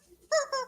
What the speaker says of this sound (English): she put a squeak toy in it